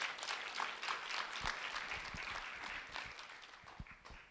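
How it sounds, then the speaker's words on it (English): A round of applause at a school ceremony honoring two students, a faint, thin scatter of clapping from a small group with a few sharper close claps, steady through the clip. "A round of applause for Salih and Andres"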